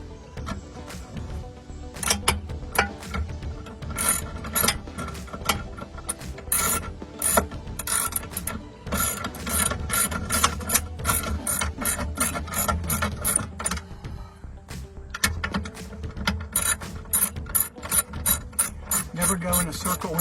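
A ratchet tightens bolts on a 1991 Volkswagen Westfalia with rapid, close clicking in repeated strokes, pausing briefly before continuing.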